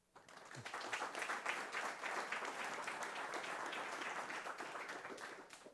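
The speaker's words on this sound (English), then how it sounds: "please give him a warm applause" A conference audience at a Linux networking talk claps warmly, applause rising quickly and holding at an even, dense level for several seconds before thinning at the end.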